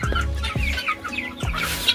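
Young, well-grown guineafowl in a coop give a quick series of loud, close clucking calls, about four or five bursts in two seconds.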